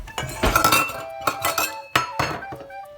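Measuring cups clink and clatter together as one is picked up, a string of bright metallic rattles and chimes in short clusters, close and fairly loud with no talking.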